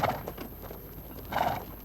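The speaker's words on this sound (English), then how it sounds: "Sharing the pastures with Mingyu's yaks and goats is a herd of Tibetan wild asses, known locally as kiangs." A herd of Tibetan wild asses (kiangs) grazing on the high Changtang pastures of Ladakh, with two louder bursts of hoof and whinny-like animal sound at the start and near the end over a low outdoor background.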